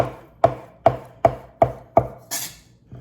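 A knife chops through strips of bacon on a cutting board, cubing them: five sharp, evenly spaced thuds about half a second apart, close and clear, followed by a softer scraping sweep.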